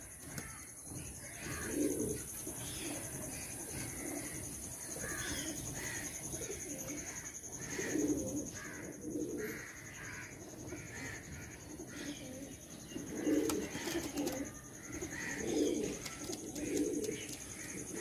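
Kalanka and kalsera pigeons coo in repeated low, throaty bursts at irregular intervals nearby, with crows cawing in the distance and a steady high hiss in the background.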